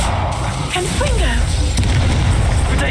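A Confringo explosion spell cast in a video game, a dense blasting burst over a steady rumbling low roar, with voices talking over it.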